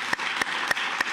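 Conference audience at a teaching and learning event clapping in a steady wash of applause, with a few louder individual claps standing out at regular intervals over the short stretch.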